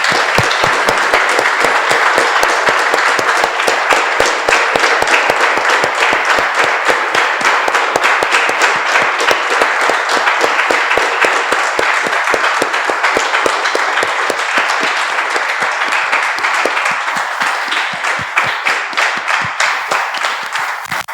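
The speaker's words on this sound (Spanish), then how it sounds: "Damos un aplauso, ¿no?" A church congregation breaks into dense, sustained applause, many hands clapping loudly and evenly for about twenty seconds before tapering slightly at the end.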